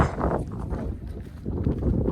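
Strong, steady wind on a hilltop buffets the microphone in low rumbling gusts, with no voices, filling the whole stretch outdoors.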